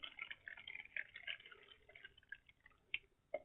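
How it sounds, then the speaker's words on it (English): Faint hot water trickling and dripping into a vessel while making mead, with small irregular splashes and drips, quiet and close. "So the other half I'm going to pour into this vessel"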